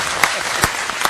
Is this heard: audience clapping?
yes